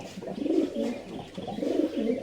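Pigeons coo in soft, throaty rolling phrases, close by, two swelling calls in quick succession with no talk over them.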